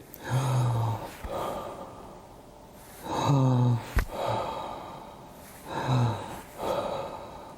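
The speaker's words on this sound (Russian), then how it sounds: "Я громко дышу специально" Loud, deliberate breaths drawn in and pushed out during a breathing exercise, three heavy breathy swells a few seconds apart with a sharp click between, close to the listener and with no talk.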